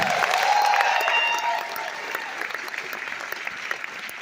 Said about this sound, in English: Big round of applause to Mirko